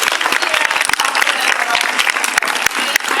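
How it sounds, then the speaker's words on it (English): Audience applauding a panel at a product design and innovation event, a dense burst of clapping from a room full of people, loud and sustained. "please, everyone, a round of applause for our amazing panel"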